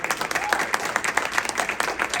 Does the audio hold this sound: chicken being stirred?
no